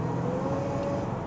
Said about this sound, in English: I'll get a little bit more spirited so you can actually hear the supercharger